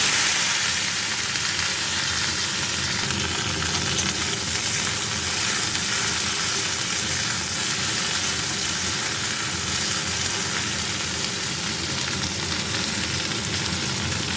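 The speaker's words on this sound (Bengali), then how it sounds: "চিমনি চলছে বলতে হয়তো তোমাদের একটু শুনতে অসুবিধা হয়" A kitchen chimney (range hood) runs with a steady broadband whoosh while okra fries and sizzles in a pan for Bengali dhenrosh posto, continuous and close, with no talking.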